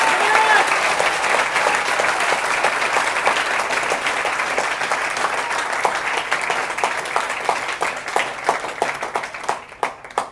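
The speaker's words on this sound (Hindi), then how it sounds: "और जोरदार तालियां एक बार अपनी बजाइए आप।" An audience at a motivational talk claps loudly in dense sustained applause that thins into scattered individual claps toward the end.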